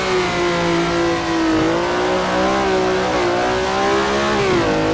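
Ferrari 330 P4 race car in Assetto Corsa at Laguna Seca, its engine droning loud and steady while the pitch slides down and back up under braking and acceleration, with no speech over it.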